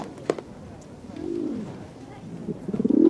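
Pigeons coo softly nearby, low throaty warbling calls that swell and repeat, with faint background noise.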